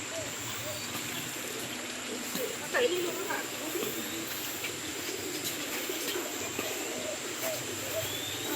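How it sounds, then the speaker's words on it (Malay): Pigeons coo and birds call softly in Taman Botani Perdana park, with trickling water in the background and people talking intermittently over the steady outdoor ambience. "Burung merpati."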